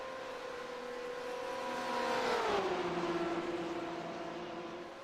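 Racing cars in the iRacing video game thunder down the Le Mans Mulsanne straight, a steady high engine drone whose pitch drops as a car shifts up and passes, loud and continuous with no talk.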